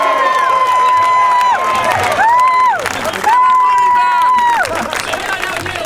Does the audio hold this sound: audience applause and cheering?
yes